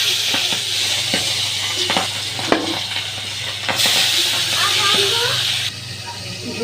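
Boal fish rubbed with ginger-garlic paste, salt and turmeric frying in oil on a tawa, a loud continuous sizzle and hiss with occasional clicks and spatters and a low steady hum underneath.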